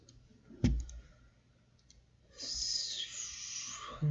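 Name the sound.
computer mouse clicking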